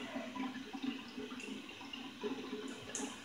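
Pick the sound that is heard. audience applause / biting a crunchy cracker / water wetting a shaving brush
water wetting a shaving brush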